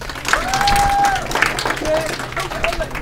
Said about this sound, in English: One more time, guys. Round of applause for both of them.